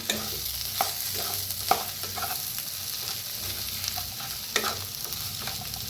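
A pan of vegetables with new potatoes, sugar, salt and coriander is stirred, giving soft scraping knocks over a quiet continuous sizzle, close and fairly faint, without speech.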